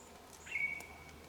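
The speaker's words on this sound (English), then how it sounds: "that was a bird" A single thin whistled bird call rings out at a distance in a quiet outdoor setting on a bush trail, brief and faint over low background hiss.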